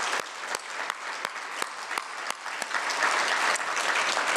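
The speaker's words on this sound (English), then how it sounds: "Round of applause for all the nominees and selection committee members." An indoor audience at a healthcare awards gala claps steadily, a dense, sustained round of applause with a few sharp individual claps standing out, growing slightly louder toward the end.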